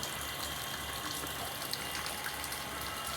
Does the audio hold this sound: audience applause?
no